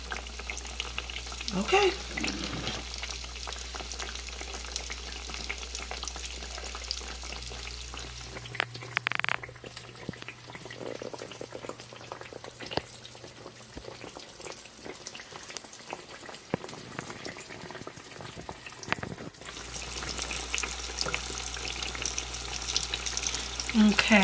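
Eggplant slices fry in a pan with a steady, soft sizzle and occasional crackles that run throughout, while a person briefly speaks.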